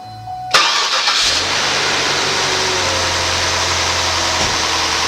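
A 2008 Cadillac SRX with the Northstar engine cranks and fires on a cold start, surging briefly before settling into a steady, loud idle that carries on to the end without talk.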